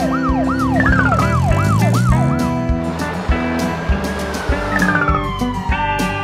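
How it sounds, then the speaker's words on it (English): A South Korean police car siren whoops in rapid rising and falling sweeps, then shifts to a steady high wail, loud and near over busy traffic. "South Korea, police car."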